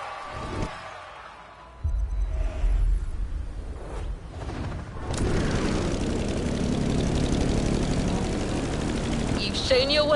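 Propeller drone of an F4U Corsair in a Hawaii flight in The Crew Motorfest, a steady close engine roar that swells after a quieter start and holds loud to the end, with a voice talking over it.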